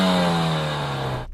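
A Mercedes-AMG A45 S on its stock exhaust rumbles at a steady idle while standing still, loud and close, with a deep even drone that eases slightly toward the end.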